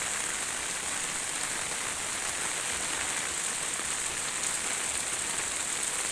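Heavy rain from Storm Bualoi pours steadily in Laos, a dense, even hiss of drops striking surfaces with no break, heard alone at a moderate level.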